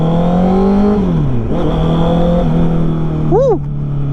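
Honda CB650R motorcycle with a Drift full exhaust running near at idle, a steady low throaty drone with a brief dip and a short blip of revs near the end; a voice speaks briefly over it.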